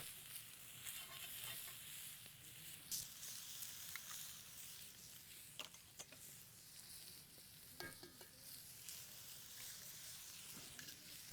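Beef fries in a pan for a breakfast scramble, making a faint, steady sizzle with occasional light clicks and scrapes from stirring, heard alone with no talk.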